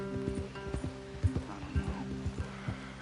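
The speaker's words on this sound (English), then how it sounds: "Leave the horses in the trees there." In a PS4 video game, horses' hooves clip-clop in a steady trot against continuous background music and ambient game sound.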